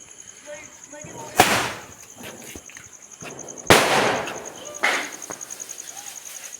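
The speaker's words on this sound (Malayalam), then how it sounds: "ലാസ്റ്റ് ആൻഡ് ഫൈനലി നമ്മൾ ഒരു സ്കൈ ഷോട്ട് ഓടിക്കാൻ പോകുന്നു." Sky shot firework launched during Vishu celebrations, with two sharp loud bursts about two seconds apart, a softer pop after, and crackling in between while people talk quietly in the background.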